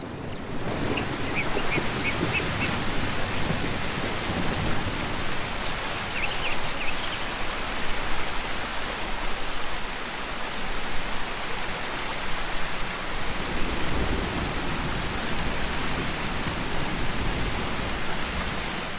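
A steady, dense hiss of heavy rain fills a tabletop RPG mood soundscape of a storm-darkened forest. It holds evenly throughout with no voices, and no distinct thunderclap stands out.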